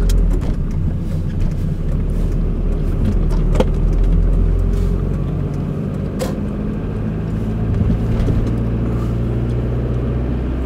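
A car engine idles at low revs: a steady, close, continuous low rumble with no speech and only small variations over about ten seconds.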